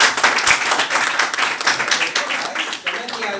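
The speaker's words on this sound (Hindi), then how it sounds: "ताली आपके लिए" Clapping from a seminar audience at a Tiens business idea-sharing talk, a dense steady patter of many hands that carries on for a few seconds without pause.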